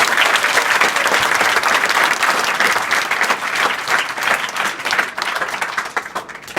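Students at a secondary school in Dayalpur, Azamgarh give loud, sustained group clapping that rings dense and steady before thinning slightly toward the end.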